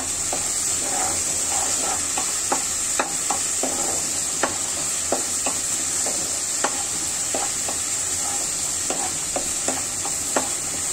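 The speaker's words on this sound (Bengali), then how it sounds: "মশলাগুলো ভেজে নিচ্ছি, পেঁয়াজ রসুন আদা জিরা বাটা সবকিছু আছে ব্লেন্ডার করা।" A blended paste of onion, garlic, ginger and cumin fries in a pan for a dry fish curry, hissing steadily up close while a utensil scrapes and taps at a regular rhythm.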